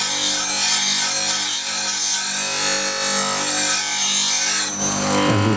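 A tool is sharpened freehand and rocked back and forth across the sharpener, making a loud, steady grinding rasp that holds continuously and then changes character near the end, with no voices.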